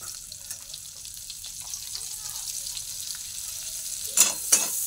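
Prawns fry in a pan with a soft, steady sizzle, faint at first and then broken near the end by two louder scraping, stirring bursts.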